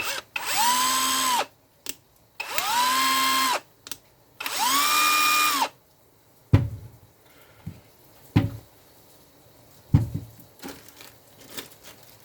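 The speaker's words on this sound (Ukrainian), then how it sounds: "Ось, коротше, такий гайкокрут. Ну і е, рівно гайку круту." Einhell Impaxxo 18/230 cordless impact wrench turning a nut: three loud, close whirring bursts, each rising then holding steady, followed by clicks and handling knocks as the tool is set down.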